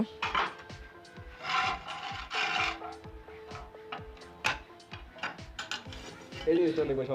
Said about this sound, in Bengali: তো দেখুন আমরা এখন ওয়াল টাইসটা কেটে নিব